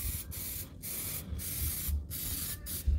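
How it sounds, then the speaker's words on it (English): An aerosol can of brake cleaner sprays in rapid repeated hissing bursts onto an oily plastic engine valve cover, close and steady, separated by brief gaps. "So the first thing is to spray, this is brake cleaner"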